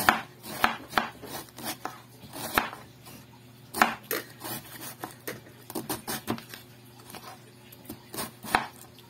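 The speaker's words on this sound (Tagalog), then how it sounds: "So, hihiwain lang din natin ang paganyan." Fresh cabbage being sliced into strips with a knife on a board, a quick run of close, crisp chopping taps in uneven bursts with short pauses between.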